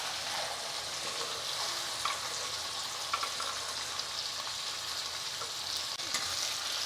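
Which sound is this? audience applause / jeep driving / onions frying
onions frying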